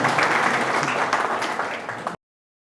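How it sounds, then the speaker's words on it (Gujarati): An audience at a business talk claps for themselves, a dense, steady burst of applause lasting about two seconds before it cuts off abruptly. "ખુદના માટે તાળી પાડો બધા, પોતાના માટે"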